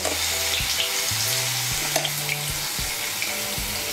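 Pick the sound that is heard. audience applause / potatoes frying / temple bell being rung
potatoes frying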